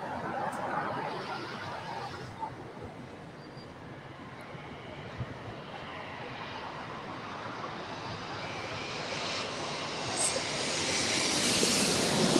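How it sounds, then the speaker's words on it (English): Air New Zealand Boeing 787-9 Dreamliner at LAX, a low, distant jet rumble under breezy noise that slowly swells louder toward the end as the aircraft draws nearer. "There is Air New Zealand Flight 6. It goes back and forth weather-wise. Yeah. This is a Boeing 787-9 Dreamliner."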